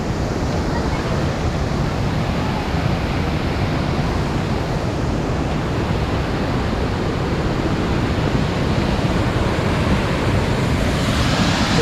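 Kaigal Falls in heavy monsoon flow, a dense, steady roar of rushing water that stays loud and unbroken throughout, with no gaps or distinct events.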